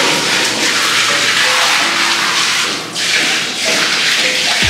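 Water from a plastic bucket pours down a household drain as a steady, loud broadband rush that continues throughout, briefly dipping before resuming.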